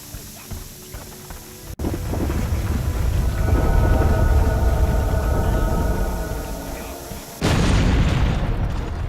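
A bomb blast in the Overlord video game, heard as a sudden heavy burst followed by a sustained loud rumbling roar, with a second abrupt loud onset near the end amid game noise.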